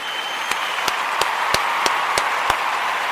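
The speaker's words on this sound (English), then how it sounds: "I want to give all of the Imani babies a round of applause." Scattered claps ring out, a handful of sharp hits at uneven intervals over a steady wash of broadband noise, like a small group applauding.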